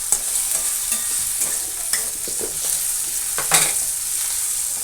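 Egg bhurji is stir-fried in a pan, giving a soft steady sizzle with intermittent scraping and tapping of a spatula as it is turned, heard close up without voices.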